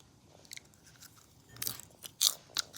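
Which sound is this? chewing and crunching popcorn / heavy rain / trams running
chewing and crunching popcorn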